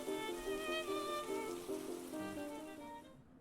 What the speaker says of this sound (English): drain pipes bring forth gurgling sounds, mysterious tones that resound throughout the streets in unfolding dissonance of gradually dissipating rain water.